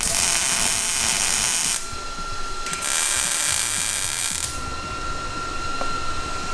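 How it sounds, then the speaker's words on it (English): Steady buzzing crackle of a welder tacking exhaust tubes onto a V8 go-kart, loud and continuous in two long bursts with a brief pause between, and a faint tonal whine running underneath. "Get these tacked in and welded up."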